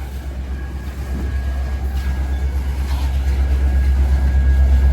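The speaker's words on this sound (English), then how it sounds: "I'll rotate back over here for you guys can see the train coming back into the shops" A CN freight train led by locomotive CN 5405 rolls back into the shops at Pembine, producing a deep, steady diesel rumble that slowly grows louder as it approaches.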